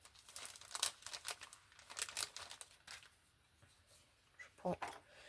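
Double-sided tape being handled and pressed onto a paper card during card making with dies and stamps, giving soft crinkling and rustling crackles in short bursts, close up and fairly quiet.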